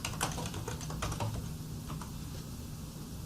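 Rapid, uneven keystrokes clatter on a computer keyboard, close and fairly quiet in a still room, thinning out toward the end.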